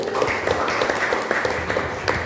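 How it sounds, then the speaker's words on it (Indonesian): Students in an Indonesian Islamic studies classroom give a short burst of scattered hand clapping, moderately loud and uneven, lasting only a couple of seconds. "Oke, tepuk tangan buat dia dulu."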